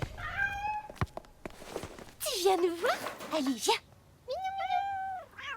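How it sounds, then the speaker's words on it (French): Tipex, Paul's cat, meows several times in drawn-out cries near the listener, with people talking between the calls. "Ça doit être Tipex, le chat de Paul."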